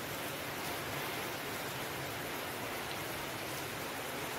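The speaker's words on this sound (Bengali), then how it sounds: "খুব জোরে বৃষ্টি হচ্ছে।" Heavy rain pouring down in a dense, even hiss, loud and constant all the way through, with no voices.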